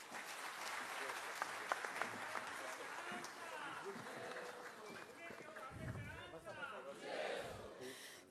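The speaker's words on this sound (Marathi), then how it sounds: "जोरदार टाळ्या आणि खरंच खूप खूप आभार" Steady applause rises from an audience after a speech by Yuvraj Sambhaji Raje Chhatrapati at a Bahishkrit Hitkarini centenary event, with voices talking over the clapping.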